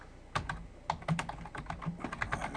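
Keys clatter in quick irregular bursts on a computer keyboard as a description is typed into a form field, close and clear with no talking.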